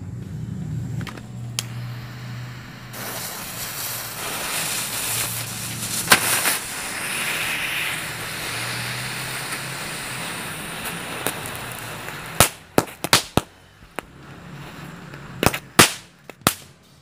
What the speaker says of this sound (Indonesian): Selanjutnya ini kita nyalakan 2 buah mercon tank berbeda